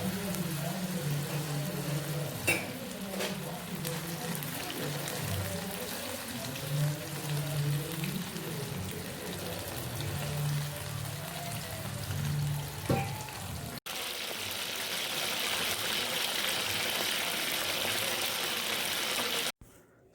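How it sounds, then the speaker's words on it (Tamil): Batter-coated mushrooms deep-frying in hot oil, a faint, steady crackling sizzle that grows brighter and denser in the second half. "அதுக்கப்புறம் நீங்கள் ஆயில் காய வச்சு எப்பயும் போல் ஃப்ரை பண்ணிக்கலாம்"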